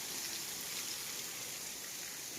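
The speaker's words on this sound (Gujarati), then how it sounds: "આવે વરસાદ." A steady, soft hiss of rain falling continuously in Porbandar, fairly faint and even throughout.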